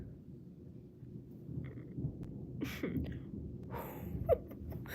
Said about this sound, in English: It's thundering like crazy over here, y'all.